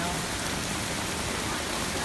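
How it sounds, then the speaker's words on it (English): Heavy rain hisses steadily and evenly on a flooded city street in Mid-City New Orleans near Canal, a dense continuous wash of falling water. "because it's been raining for so long and the water is so high"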